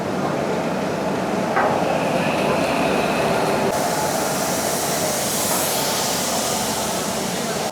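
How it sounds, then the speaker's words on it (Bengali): Puri-Howrah Shatabdi Express pulling into a station, a steady loud rumble of rolling wheels and rail noise throughout with a brief clank partway, no talk heard. "পুরী থেকে হাওড়া এই যে শতাব্দী এক্সপ্রেস ঢুকলো এসে"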